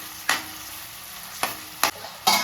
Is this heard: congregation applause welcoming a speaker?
no